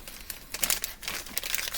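Crinkly plastic bag from Mr. Potato Head toy packaging being handled close up, with bursts of crumpling and rustling over about two seconds and no talking.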